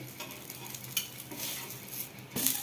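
A cucumber dosa sizzles on a nonstick pan as it is flipped, a steady close hiss with scraping of a spatula and a sharper scrape near the end.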